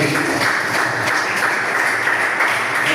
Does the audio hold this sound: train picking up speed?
no